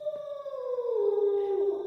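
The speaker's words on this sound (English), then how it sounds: "in the distance, a dog howled" A dog howls in the distance as a sound effect in a spooky fiction story, a single sustained, mournful howl sliding slowly downward in pitch, clear against a quiet background.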